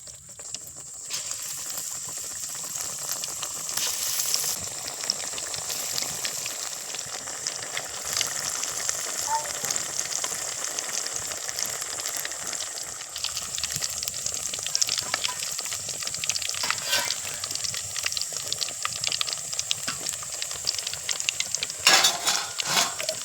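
Small sundaikkai vadai fry in hot oil in a kitchen, a steady bubbling sizzle with occasional utensil clinks and pan knocks throughout.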